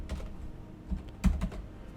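Keys tapped on a computer keyboard while entering code, a few soft scattered keystrokes with a louder cluster near the middle, close and alone.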